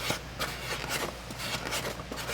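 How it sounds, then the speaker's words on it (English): Sanding a leather saddle seat by hand, a soft steady rasping rub in repeated strokes, fairly quiet and close with no talking. "Now I'm gonna sand this down even more."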